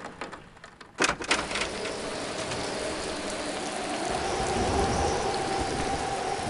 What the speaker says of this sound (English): It's raining and windy, but there's no clouds in the sky.